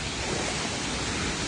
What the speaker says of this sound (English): We're at a bigger waterfall.